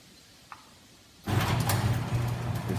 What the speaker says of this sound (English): As you can see, my garage door is going down, and you can probably hear it as well.